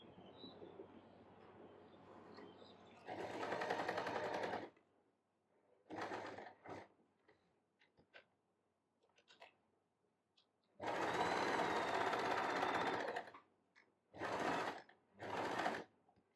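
A sewing machine runs lock stitches through fabric for a handmade hair bow in two long bursts, with several shorter runs and brief pauses between them, steady and close with no talking.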